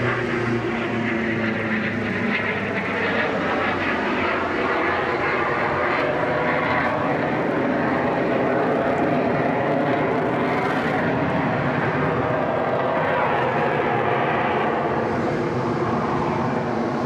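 A display aircraft at the Pacific Airshow Gold Coast over Surfers Paradise roars past on a steady loud engine drone that swells and fades slightly, dense and continuous throughout.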